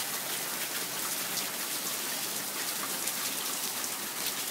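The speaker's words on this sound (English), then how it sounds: "I mean, we asked for rain, we got it." Heavy rain pours down in a Las Vegas deluge, a dense, constant hiss of drops hammering surfaces, loud and unbroken with no talking.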